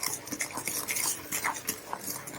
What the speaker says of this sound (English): I'm going to slowly add that as I stir.